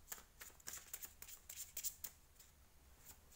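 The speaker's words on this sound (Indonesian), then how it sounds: "menshuffle kartunya dulu" Tarot cards being shuffled by hand, quick repeated riffling flicks close up in a quiet room, with brief pauses between bursts.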